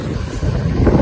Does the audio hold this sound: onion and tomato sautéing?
no